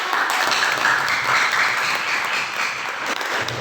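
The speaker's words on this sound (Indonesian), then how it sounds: "Beri tepuk tangan kepada" Classroom applause during a mathematics lesson: a steady, dense wash of many hands clapping together for about three and a half seconds, fairly loud and continuous with no voices over it.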